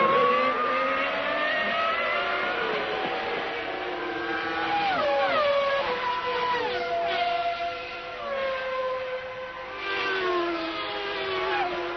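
Formula 1 cars of the 1995 season race at the Japanese Grand Prix at Suzuka, high-pitched V10 and V12 engines wailing and shifting down and up through a chicane as several cars pass in succession.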